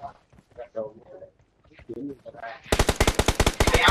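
A gamer's voice talks for a few seconds before a loud, rapid burst of automatic gunfire from a shooter video game takes over, sharp cracks fired in quick succession with talk faintly beneath.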